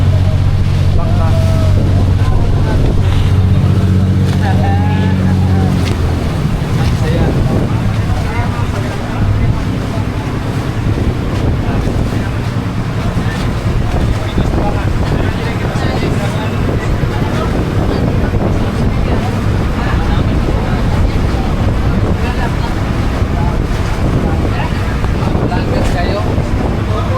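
A motorboat engine hums steadily over rushing water and wind buffeting the microphone, with a person talking at times.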